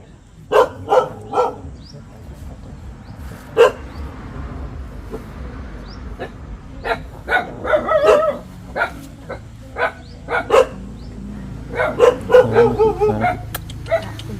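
A dog barking outdoors in a series of sharp, close barks and yips, scattered at first, then clustering into rapid runs near the end, over low background noise.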